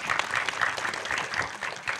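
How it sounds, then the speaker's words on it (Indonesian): Applause breaks out from the audience at a climate seminar, a brief burst of many hands clapping in uneven pulses at moderate volume, with no voice standing out. "Boleh tepuk tangan untuk Prof. Daniel"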